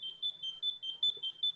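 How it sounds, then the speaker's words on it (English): A car alarm goes off outdoors in pouring rain with a steady run of rapid, evenly spaced high beeps, about five per second, that sound alone without talk. "My car's alarm is going off."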